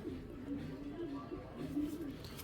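A Sapchila-type male pigeon coos in a low, continuous rolling murmur, faint and close, with soft background noise.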